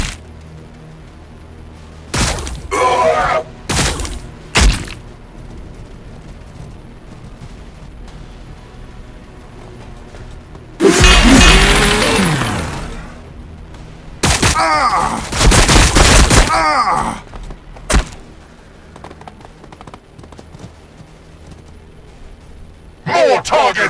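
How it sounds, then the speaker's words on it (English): Loud bursts of battlefield gunfire and explosions from the video game Warhammer 40,000: Battlesector, arriving in several separate volleys, a short sharp shot at the end, with shouted voices in between. "Taking fire!"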